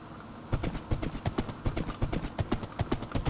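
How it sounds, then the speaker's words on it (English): Rhythmic clip-clop of horse hooves in Minecraft Bedrock Edition on PC, a steady trotting patter of close, moderately loud steps that starts about half a second in and keeps going alone. "Oh, I gotta get back on my horse before it gets too far away."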